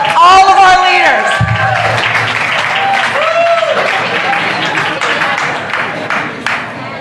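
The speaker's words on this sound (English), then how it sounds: "A round of applause for all of our leaders." A crowd applauds leaders at a political event, clapping that runs under a person speaking, with the voice prominent early and the applause carrying on beneath it.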